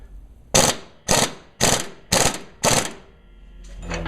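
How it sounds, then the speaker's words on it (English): Five short, loud bursts of a pneumatic impact wrench driving in a ball joint on a 1998 GMC K1500 pickup, evenly spaced with brief pauses between them, followed by a low motor hum. "I'm actually going to try to run my impact gun on this and drive it in."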